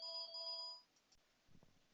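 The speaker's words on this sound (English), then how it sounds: "Apologies for my phone which rang again." A mobile phone goes off during a lecture: a steady, bright electronic ringtone for under a second, then cut off, followed by faint rustling and handling noise.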